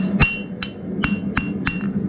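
A hammer strikes hot steel on an anvil while the point of a forged hook is drawn out, five sharp ringing blows at a steady rhythm over a low background hum.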